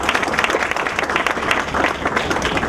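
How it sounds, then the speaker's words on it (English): At an annual Ramadan iftar dinner event, a room of guests gives a round of applause: close, lively, overlapping claps for nearly three seconds with no speech on top. "I think she deserves another round of applause."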